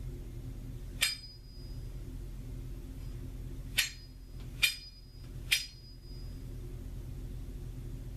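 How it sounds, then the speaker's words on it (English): Four sharp metallic scrapes and clinks from the tip of a knife blade rubbing against something, one near the start and then three in quick succession a few seconds later, each ringing briefly over a quiet low hum. "When the tip of the blade rubs against something, it makes that sound."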